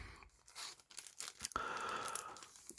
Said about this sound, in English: So I will simply unwrap this.